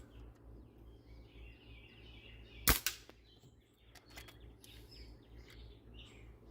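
An airsoft pistol BB strikes a wooden target outdoors in one sharp, isolated crack, followed by a faint trailing knock, over quiet ambience with distant birds chirping.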